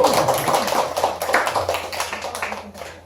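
Parents and children at a Buddhist temple gathering clap together in a brief, moderately loud round of applause with fairly even rhythm, thinning slightly as it goes.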